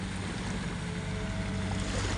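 A sand-carrying boat being unloaded with two motors gives a steady, loud low drone and churning rumble on the water, continuous and close, with no talk.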